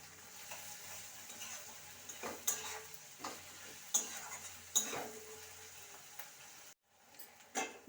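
Onions frying with a little salt in a pan, a soft continuous sizzle punctuated by repeated sharp scrapes and taps of a spoon stirring, fairly quiet and close, with no talk over it.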